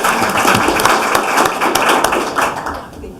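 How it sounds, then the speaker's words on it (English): Audience clapping at a board of education meeting for a PTA president, a short dense patter of many hands, fairly close and steady for about three seconds before tapering slightly. "We'll clap for her anyway."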